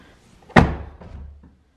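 Door of an Alfa Romeo 4C shutting with a single sharp, close slam, followed by a short rattling settle before quiet.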